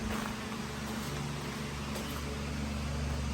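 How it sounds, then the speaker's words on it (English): A floor dryer fan runs steadily, giving a loud, even rushing whoosh with a low constant hum underneath and no pauses. "We'll shut off our floor dryer"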